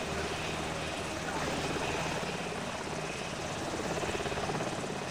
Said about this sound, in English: A helicopter is lifting a Humvee